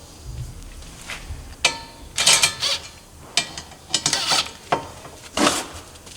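Ten-millimetre bolts are started into a front bumper being fitted to a CFMOTO ZFORCE 950/1000 Sport side-by-side, producing scattered bursts of metallic ratcheting and clicking with short pauses between them.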